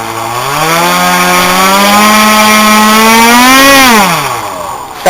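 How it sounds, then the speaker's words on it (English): An RC Star Wars X-Wing model's propeller motor spins up into a loud, steady whine as the prop swings close to the airframe, holding for several seconds before winding down, heard close and alone. "the prop swinging so close to this part here, and it's making like a weird sound"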